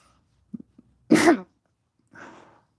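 A couple of small inhaling catches build into a single sharp, loud sneeze, followed by a softer breathy exhale.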